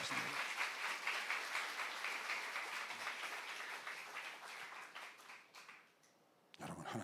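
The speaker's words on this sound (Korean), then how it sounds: "박수 한번 하세요" A church audience claps during a sermon, a fairly quiet wash of applause that thins out and drops to near silence before a brief burst of sound returns at the end.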